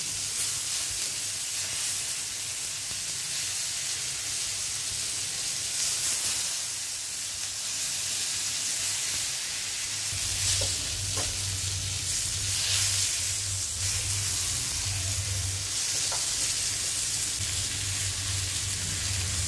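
Fish frying in hot oil in a pan for a crispy fried fish dish, a steady close hiss and sizzle that grows louder and busier partway through and continues with no talking.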